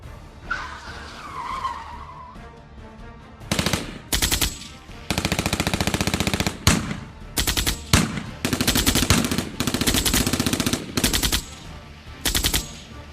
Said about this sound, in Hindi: हेवी फायरिंग के कारण मूसेवाला की ऑन द स्पॉट मौत हो जाती है